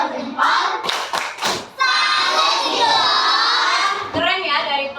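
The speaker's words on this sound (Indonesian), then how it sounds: "Kasih aplaus untuk kelompok 2." Elementary classroom of children clapping for a student group, a few loud sharp claps and thuds followed by children's voices chanting and cheering together, close and energetic.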